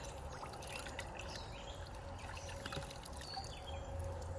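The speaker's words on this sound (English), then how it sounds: "we're going to put him in the water," Freshly cleaned bass being dipped and rinsed in water outdoors, a steady soft splashing and trickling with light pouring sounds, fairly quiet and continuous throughout, no talking.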